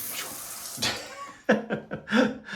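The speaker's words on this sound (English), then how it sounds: "I take this handle here and I turn it, and you'll see water. The nozzles come down" A bidet's nozzles spray a high-pressure jet of water onto a towel, giving several short, close hissing bursts that start and stop in quick succession.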